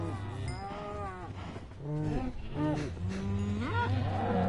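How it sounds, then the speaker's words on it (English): Cows in Minecraft Bedrock Edition moo over and over, several overlapping low, sliding calls that follow one another closely and sit clearly in the foreground. "yeah, it is a lot of cows"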